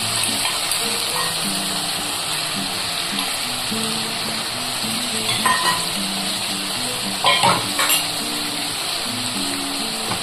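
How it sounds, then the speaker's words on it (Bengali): Tomato paste fries with cauliflower in a pan, a constant close sizzle with a few brief bursts of stirring over it, and no voices. "এবার আমি এটা খুব ভালো করে কষিয়ে নেব ফুলকপির সাথে।"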